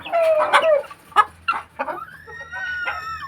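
Several chickens cluck and squawk close by, with overlapping calls and a drawn-out crow-like cry toward the end.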